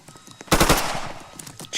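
Sharp bursts of automatic gunfire from a police-chase video game, a loud close volley mid-clip followed by scattered fainter shots.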